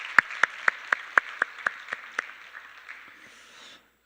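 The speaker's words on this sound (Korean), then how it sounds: "우리 하나님께 영광의 박수 함께 올려드릴까요?" A small church congregation claps in a steady rhythm of about a dozen sharp, evenly spaced beats during a Sunday worship service. The claps grow softer and blur into scattered clapping before stopping, and a voice begins right at the end.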